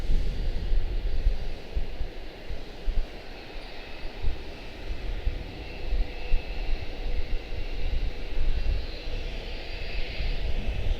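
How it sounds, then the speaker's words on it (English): Airbus A321 arriving from San Diego, taxiing at Charlotte-Douglas International Airport: a steady, fairly distant jet engine drone with low rumble and a faint high whine swelling toward the end, no voices. "A321 out of San Diego touching down back there on us, or taxiing towards us"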